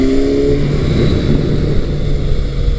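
A motorcycle engine, one of several adventure bikes such as a Kawasaki Versys, Honda NC700X or Yamaha FJ-09, revs up and settles with the throttle rolled on and off, loud and close, with no talking.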